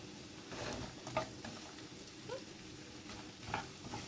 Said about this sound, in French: Je vais touiller.